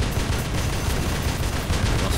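Rapid bursts of gunfire crackle continuously in the video game War Robots, dense and loud, like a fast exchange of shots with no voices over them.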